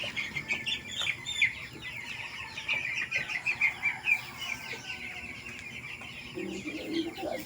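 Broiler chickens cluck and chirp inside a freshly cleaned coop on a farm, a busy overlapping chorus of soft clucks and peeps at moderate distance, no voices.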